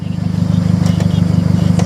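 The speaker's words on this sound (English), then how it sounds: "So I'm loving the engine sound, I'm loving the exhaust." Steady low engine idle with exhaust burble from a 2008 Mazda Speed3 Turbo, close and loud, with an even pulsing throb and a couple of faint clicks.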